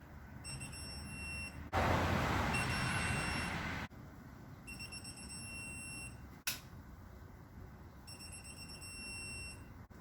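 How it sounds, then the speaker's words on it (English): A series of short, high electronic beeps, repeating in evenly spaced bursts, sounds during work on a Subaru engine head gasket job, with a louder broadband rush partway through and a single sharp click. "So I should hear a beep, right?"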